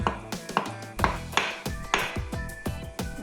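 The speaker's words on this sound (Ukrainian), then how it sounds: "Морквинку, ріжу її." A knife chops a carrot on a board, with about a dozen sharp, evenly spaced close knocks in quick succession and no talk.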